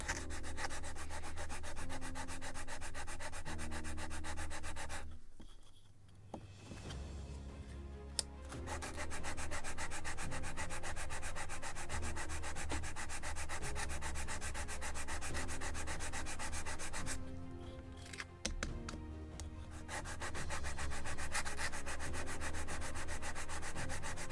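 Steady back-and-forth sanding scrapes on the small wooden rudder of a Model Shipways kit model of the 1776 gunboat Philadelphia. The rubbing is close and continuous, with two brief pauses.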